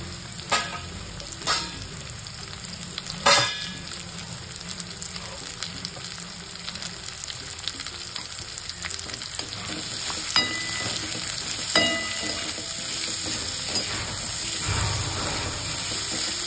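Onion sizzles and fries in a hot pan, a steady close hiss with occasional sharper spatters and stirring scrapes, heard alone without speech.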